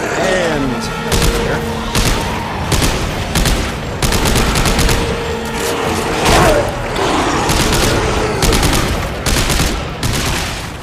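Dead Space gameplay fills with weapon fire blasting necromorphs: loud, dense bursts of shots and booms follow one another almost continuously, with voices speaking over the din.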